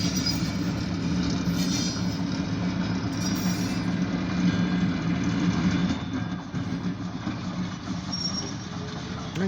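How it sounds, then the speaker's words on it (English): A light-power freight train rolls past at moderate distance, a steady low rumble of wheels and engine with faint metallic squeal, no voices over it. "We got a light powered train."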